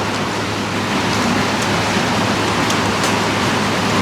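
Heavy rain pours down during a storm, a loud, steady, broadband hiss with no breaks, close and enveloping throughout.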